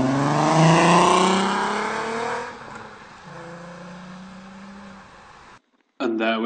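Volkswagen Golf R32 Mk4 with its V6 engine and Milltek exhaust revving hard: a loud rising engine roar that eases off into a steadier lower drone, then cuts out briefly before another burst of revving, with speech partly over it.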